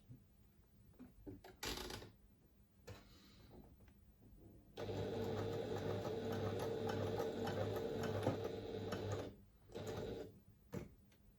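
A sewing machine stitches raw fabric layers together in a quiet room, running in a steady whirring burst of about four seconds between shorter starts, with small clicks and handling noises in the pauses.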